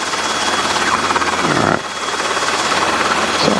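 A Robinson helicopter's engine and rotor roar loud and steady at close range while it waits to depart, with a brief spoken word over the noise.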